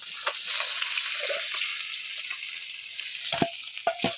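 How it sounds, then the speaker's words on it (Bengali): Pabda fish fry in hot oil in a pan with a steady, close sizzle. A few sharp clicks of stirring or handling come near the end, and no one speaks. "এরপর পরপর আর বাদবাকি মাছগুলো ভেজে নেব।"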